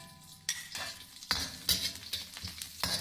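Garlic and onion sauté in oil reused from frying milkfish and tilapia, giving a soft sizzle broken by a few brisk metallic stirring clatters in the pan.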